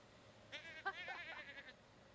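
A single sheep in The Sims 4 video game bleats once, a short wavering call lasting about a second, heard alone and at a moderate level against a quiet background.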